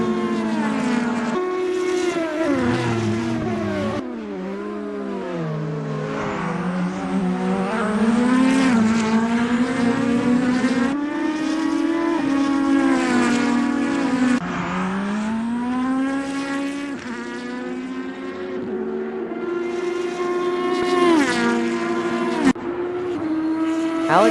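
Super GT race cars lapping Suzuka in Assetto Corsa, engines droning loud and continuous with rising and falling pitch through gear changes, several cars layered close together, no talking.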